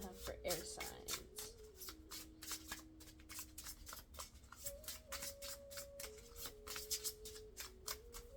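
Tarot or oracle cards being shuffled by hand in a steady run of crisp riffling bursts, close and clear, with someone speaking softly over them throughout.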